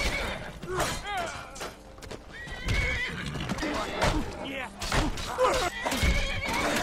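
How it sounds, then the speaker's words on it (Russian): Horses in the video game Skyrim neigh and whinny repeatedly among hoof clops and scattered thuds, loud and close, mixed with bursts of game noise. "Эй, ты, козел, лошадь мою не трогай."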